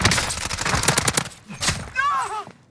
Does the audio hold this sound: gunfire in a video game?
yes